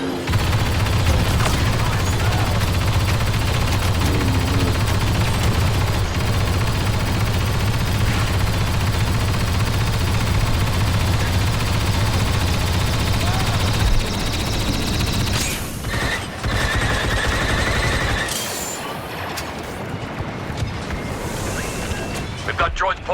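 Sustained gunfire from a Star Wars Battlefront II battle on Geonosis, dense rattling bursts and booms over a rumbling low battlefield din, loud and continuous for most of the clip before thinning out near the end.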